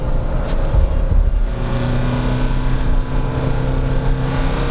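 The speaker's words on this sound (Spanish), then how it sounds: "Muy característico el sonido del motor." Engine of a Nissan NP300 Frontier pickup truck while driving, a steady, loud, low droning hum with road noise and no speech.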